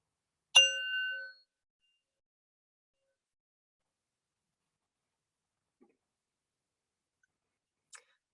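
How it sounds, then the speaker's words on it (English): A single clear meditation bell strike rings out and decays over about a second, followed by long silence and a couple of faint small clicks. "And now we listen to the bell together."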